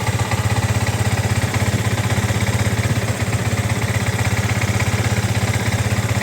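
Yamaha R15 V3 motorcycle engine running steadily at idle, close and loud, with an even rapid pulsing throb throughout and no speech.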